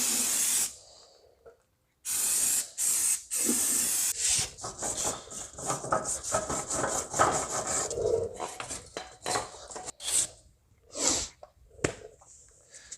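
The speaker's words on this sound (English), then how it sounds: "spray it down with a little bit of brake clean" Several sharp hissing bursts of an aerosol brake cleaner spray in a vehicle's wheel well, starting and stopping irregularly, close up, mixed with rubbing and clatter.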